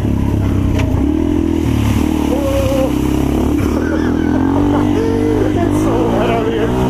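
A modded, regeared and rejetted 2016 Yamaha TTR230 dirt bike engine revs and pulls loudly up close while riding on wet ground, pitch rising and falling with throttle changes amid rattling clatter, with a rider's voice now and then.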